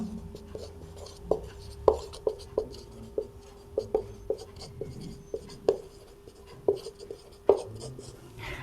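Maths working written out by hand during a class 12 lesson, a series of sharp tapping pen strokes and short scratches in an irregular rhythm, close and clear, with no speech.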